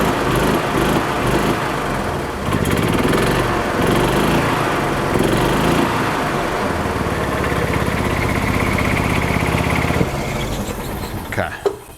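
Gas engine of a 2005 Club Car Precedent golf cart running steadily after starting with oil-and-gas-flooded crankcase, a constant buzzing drone near the mic that shifts slightly in pitch before cutting off at the end.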